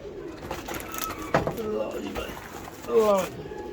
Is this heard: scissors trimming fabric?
no